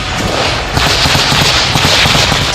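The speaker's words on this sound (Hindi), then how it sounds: "गोलियां दोनों तरफ से बरसाई जा रही हैं।" Gunfire at a front line near Bakhmut and Zaporizhzhia in the Russia-Ukraine war, captured on a soldier's body camera: a dense, continuous crackle of shots with sharp cracks throughout and no clear gaps.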